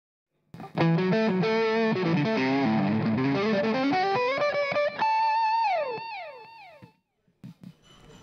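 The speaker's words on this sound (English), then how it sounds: "The Landgraf pedal is a little nastier, but it's a very, very clear representation of what the guitar sounds like." Electric guitar driven through a Landgraf distortion pedal plays a busy, gritty phrase that settles into sustained bent notes and rings out, loud and close, with a few faint pick noises at the end.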